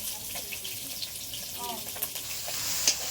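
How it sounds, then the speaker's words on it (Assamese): Fish heads fry with onion in hot oil, a moderate continuous sizzle with occasional stirring sounds and small clinks, heard close. "মাছৰ মাথাখিনি পিঁয়াজ দি পেলাই গুড়া ভাজি কৰিছোঁ"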